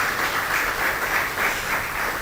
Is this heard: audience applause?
yes